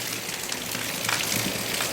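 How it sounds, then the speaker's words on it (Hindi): Steady rain falls during a stretch of stop-and-start downpours, a continuous soft hiss of drops on surfaces with no voices. "बारिश रुक रुक कर हो ही रही है।"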